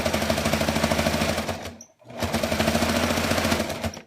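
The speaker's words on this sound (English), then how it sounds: "Just making sure the seam is straight, and then I sew to where my hand is." A sewing machine stitches a snuggle blanket seam in a loud, steady mechanical rattle that pauses briefly, then resumes at the same rapid pace.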